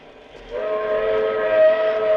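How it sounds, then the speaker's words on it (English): A train whistle sound effect in a 1947 radio drama: a sustained, steady tonal whistle swells in after a quiet start and holds loud and alone to the end. "It sounded like a train whistle."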